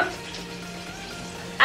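Bacon sizzling in a hot pan for pasta, a steady close frying hiss with a brief louder burst at the end.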